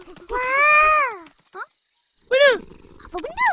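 A cartoon cat meows in a children's animated series, several rising-falling cries spread across a few seconds with short gaps between them, fairly loud and close. Faint background noise sits beneath the calls.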